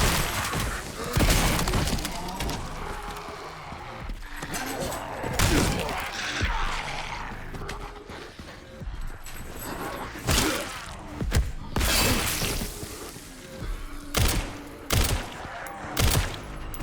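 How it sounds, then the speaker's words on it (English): Loud, heavy gunfire bursts from a shotgun fired at a charging zombie in the video game Resident Evil Requiem. Repeated sharp blasts with impacts and clatter come at irregular intervals across the whole stretch. "It was a shotgun."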